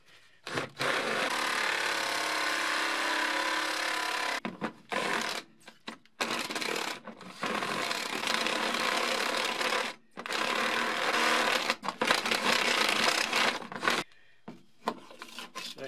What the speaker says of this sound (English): get a bigger drill.